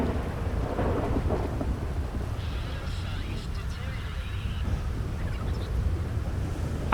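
A storm at sea with thunder and rain, a steady low rumble and broad wash of noise lasting throughout, loud and close, with a voice speaking faintly beneath it.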